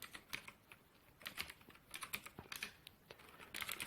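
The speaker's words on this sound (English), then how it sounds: "Type your password" Keyboard typing of a password while installing software on a Linux desktop, a close run of quick, uneven key clicks with short pauses between bursts, no talking.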